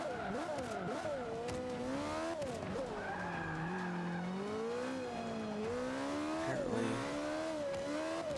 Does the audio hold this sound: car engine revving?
yes